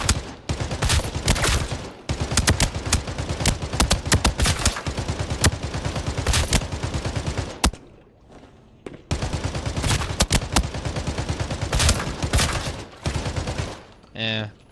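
An assault rifle fired from the hip in Arena Breakout rattles out long loud bursts of rapid automatic gunfire, broken by a brief pause before another extended string of shots and a short trailing sound.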